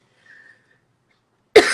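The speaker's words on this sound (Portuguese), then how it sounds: "Vou tossir, gente, desculpa." A woman gives a single sudden cough after near silence, close to the microphone and loud, cut off abruptly at the end.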